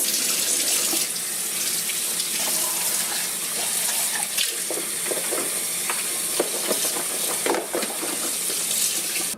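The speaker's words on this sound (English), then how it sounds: "So I'm going to go ahead and just wash it really quick." A tap runs steadily into a sink while a plastic pantry canister is rinsed under it, a continuous close splashing rush broken by small knocks and shifts of the container being handled.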